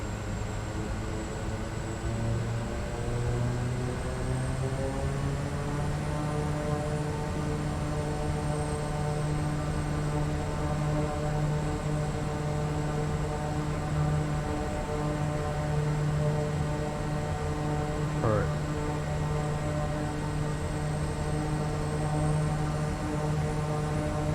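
A Kodiak 100 turboprop in Microsoft Flight Simulator roars at takeoff power, a loud continuous propeller and engine drone with steady tonal harmonics that shift slightly in pitch, heard alone without speech.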